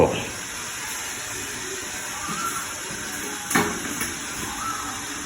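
A covered pot steaming a cake on a home stove in Jaffna gives a steady, close hiss of escaping steam, with a brief metallic clatter from the lid partway through.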